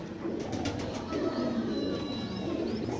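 Kasuri and Zeera pigeons cooing, a steady close murmur of low coos and soft bird calls with no speech.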